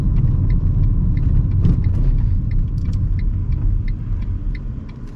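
A car with a failed clutch, taken out of gear into neutral, rolls to the left side of the road and stops. A steady low road and engine rumble is heard close up from inside the cabin, with faint ticking on top.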